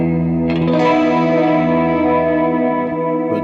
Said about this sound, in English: Chorus, which sounds like this.